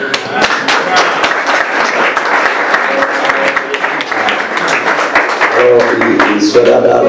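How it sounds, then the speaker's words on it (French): A room of people applauds steadily, a continuous bright patter of many hands at close range, with some voices mixed in toward the end. "on applaudit quand même"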